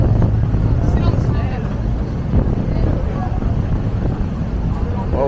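Engine drone and wind on a boat ride across Sydney Harbour, a continuous rushing rumble with people talking throughout.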